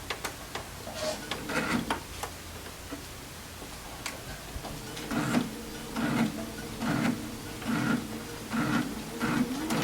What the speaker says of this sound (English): I'm going to first sew the one on the right